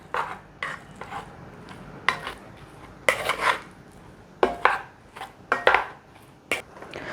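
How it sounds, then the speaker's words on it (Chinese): Cooked white rice being fluffed and stirred in a cast-iron electric rice cooker pot: a close, irregular run of scrapes, soft knocks and clinks against the metal, coming in short bursts with brief pauses. "来把饭拌松，哇，粒粒分明的白饭，先拌松"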